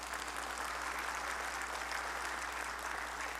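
Church congregation clapping together in a sustained, even round of applause that stays steady from start to finish, heard from a little way off.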